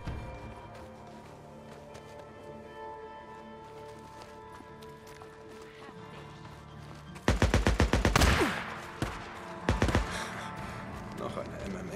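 Gunfire in the video game Days Gone: after a quiet stretch, a loud burst of rapid shots breaks out, followed a moment later by a second short volley.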